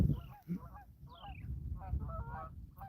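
Canada geese honk outdoors by the water, several nasal calls in quick bursts from a moderate distance over faint background rumble.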